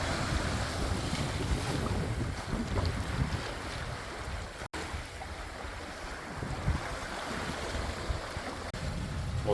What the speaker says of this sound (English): the wind piped up nicely